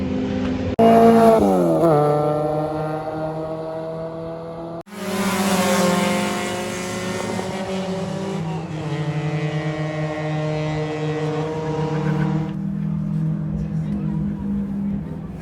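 Race cars at an endurance race at Calabogie Raceway, a loud engine roaring up through the gears, a sharp cut, then a sustained high-revving drone that holds before fading.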